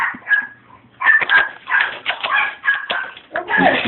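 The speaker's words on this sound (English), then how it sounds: "It's just a big ferocious guard dog." A big guard dog barks repeatedly in short, loud bursts with whimpering tones between them, close by and fairly steady in rhythm.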